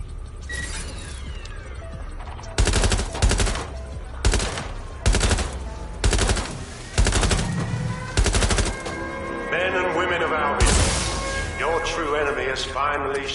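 Gunfire in the open-world action game Watch Dogs Legion: loud, close machine-gun bursts in a steady rhythm of repeated volleys, followed by mechanical clatter and voices talking over the scene.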